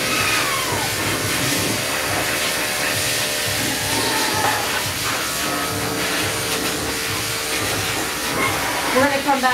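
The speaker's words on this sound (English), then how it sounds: "the blow dryer is faster" A loud, steady blow dryer roars close by for the whole stretch while drying a Yorkshire Terrier's coat during grooming, a broad airy whoosh that barely changes, with faint talk mixed beneath it.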